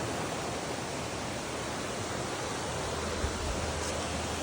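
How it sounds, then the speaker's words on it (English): Water rushes steadily through a high side stream of the Greenbrier River, producing a loud, unbroken broadband roar close by with no pauses or other sounds. "this is a side stream from the Greenbrier, and look how high it is"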